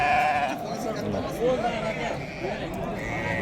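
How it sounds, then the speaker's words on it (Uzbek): Lambs for sale at a livestock market, bleating a few times amid crowd chatter and someone talking over them. "Mana qo'zichalar."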